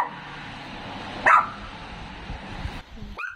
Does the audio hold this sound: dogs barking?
yes